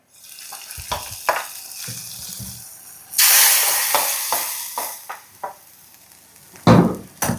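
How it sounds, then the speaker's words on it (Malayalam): Onions fry in hot oil for a fish curry, with a loud sizzling rush that surges midway, set among clinks and scrapes of stirring nearby. "അപ്പോൾ ഇതാ നമ്മുടെ മീൻ കറിയിലേക്ക് കുറച്ച് ഉള്ളി കാച്ചിട്ടെ."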